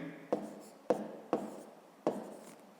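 Pen or marker strokes on paper, four short scratchy bursts at a steady pace as numbers are jotted down, close and quiet with no talking.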